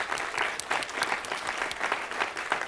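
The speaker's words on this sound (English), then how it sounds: "Let's give him a round of applause, please." Steady audience applause fills a climate change symposium, a dense, even patter of many hands clapping throughout with no voices over it.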